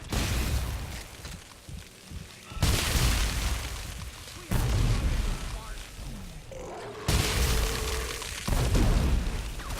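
Grenade blasts in Dead Space 3 sound as several loud, booming bursts a couple of seconds apart, with a voice talking in between.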